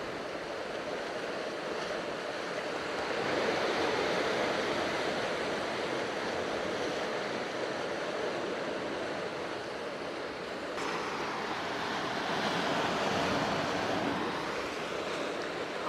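Ocean waves wash in a broad, steady roar of surf, swelling and easing gently over several seconds, close and continuous with a windy hiss and no speech.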